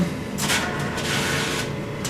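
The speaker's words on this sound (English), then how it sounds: "Printer sucks in." A printer draws in a sheet of film for platinum-palladium printing: close mechanical whirring with repeated short scraping and rubbing bursts from the feed rollers, steady and moderately loud, with no voices.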